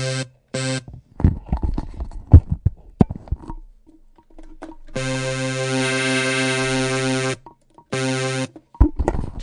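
A synth lead built in FL Studio's 3xOsc with heavy overdrive: a choppy burst of short notes, then a long, bright, buzzy sustained tone with rich harmonics, loud and upfront.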